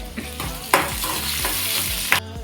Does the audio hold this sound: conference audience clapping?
no